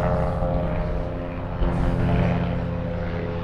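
A propeller aircraft drones steadily overhead for the whole stretch, a loud, continuous low engine hum with harmonic tones, swelling slightly midway, with no talking over it.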